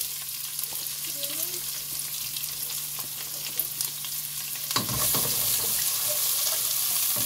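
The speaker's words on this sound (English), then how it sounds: "I've already added my oil into my pan, so I'm going to add in the onions" Onions dropped into hot oil in a pan for an Indian chickpea curry, starting as a quiet steady sizzle before bursting into a loud, bright, continuous frying hiss partway through.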